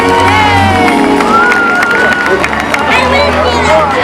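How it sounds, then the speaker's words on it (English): A crowd at the SeaWorld San Diego Orca Encounter show cheers and claps continuously, with excited shouting and voices mixed into the noisy din. "Let's give a round of applause, everybody!"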